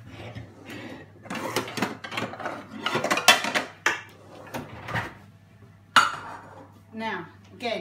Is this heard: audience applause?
no